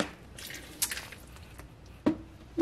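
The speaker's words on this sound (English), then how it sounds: "That's water. Water dripping" Water drips from a leak under a sink, a few faint, separate drips and small splashes in a quiet space.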